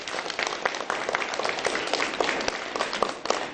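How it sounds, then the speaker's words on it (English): School students applaud together in a dense, steady burst of clapping, moderately loud and close, with many overlapping hands and no voices standing out. "Let's give yourselves a round of applause"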